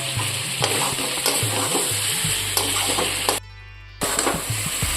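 Potato, cauliflower and egg cooking in a pan, loud close sizzling with repeated spatula scrapes and stirring knocks, a short near-silent gap before the frying resumes; a low hum sits underneath.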